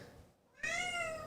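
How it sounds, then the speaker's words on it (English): A cat lets out one drawn-out, complaining meow, close and clear, bursting in after a brief hush and holding steady to the end. "Oh my gosh, we have a cat that's complaining."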